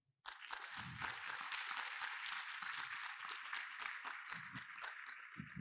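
A seminar audience on doctors becoming entrepreneurs claps for themselves, with a burst of many hands that starts suddenly and keeps a steady, lively, fairly close rhythm throughout.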